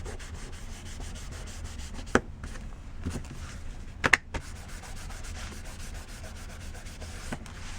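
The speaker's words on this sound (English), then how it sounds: "Give it a burnish." A tool rubs hard over a glued paper cover on a legal notepad, making a continuous close scraping rasp broken by a couple of sharp clicks. No one speaks.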